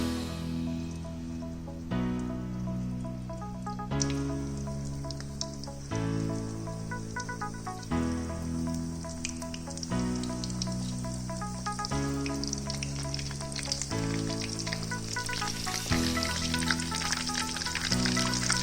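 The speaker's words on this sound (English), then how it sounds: "Heat oil properly, then add crumb prawns." Crumbed prawns sizzle steadily in hot oil, a close, continuous frying crackle with soft music playing underneath.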